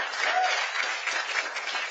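A comedy show audience claps in a brief, dense burst of applause, moderately loud and continuous for a couple of seconds.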